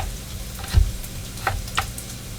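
Onions cooking down in a pan for corn chowder give a faint, steady sizzle with a few soft clicks and one low thump, close by with no talking.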